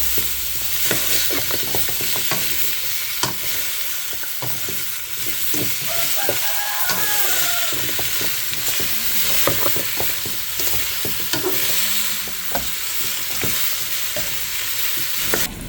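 Chicken sizzles loudly while being stir-fried with chili paste in a pan, with frequent scraping and clacking of a spatula throughout.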